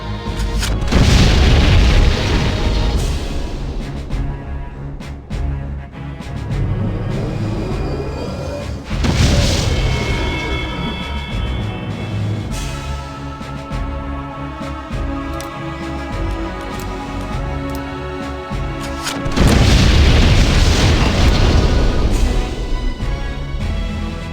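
Heavy booming blasts from a grenade in the video game Septerra Core hit about three times, each a loud, deep burst standing out over ongoing game music.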